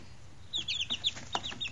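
Young chickens cluck and chirp close by in a short burst of quick, bright calls, several birds overlapping in an irregular patter over a quiet background.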